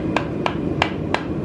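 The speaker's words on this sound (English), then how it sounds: "we're gonna turn the heater on, warm up the PVC, and then hammer it in" A warmed 6-inch PVC adapter is hammered into a pipe coupler with five evenly spaced, sharp blows, close and fairly loud over a constant heater-like rushing background.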